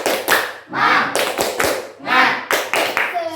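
A classroom group claps together in a patterned ice-breaker chant, sharp bursts of hand claps alternating with short shouted group voices in a lively, uneven rhythm.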